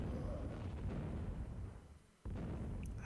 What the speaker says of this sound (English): We get to see a nice fireworks display, as you can see.